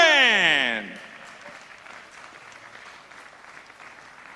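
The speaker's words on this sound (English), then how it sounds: "please show your appreciation to our Madison podium and keep the applause going for all our women Madisons" Applause at a velodrome cycling carnival honouring the women's Madison race podium, a steady broadband clapping that follows a loud announcer's sweeping tone and continues at moderate level to the end.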